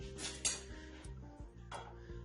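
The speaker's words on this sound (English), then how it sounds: "I'm going to stir up some of the yogurt in a separate bowl" A metal spoon stirs yogurt in a bowl, clinking and scraping against the sides in a few close, irregular strokes over a low background hum.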